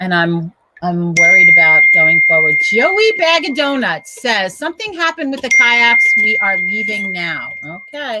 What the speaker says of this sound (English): Oh, that's my phone going.